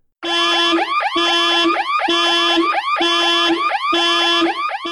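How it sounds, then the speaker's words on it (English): A loud car alarm outside cycles through repeating electronic wailing sweeps in a steady rhythm, about five regular bursts, with no voices. "She can hear the sound of the car alarm outside."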